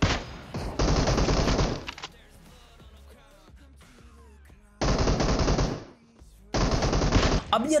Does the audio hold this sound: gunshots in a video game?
yes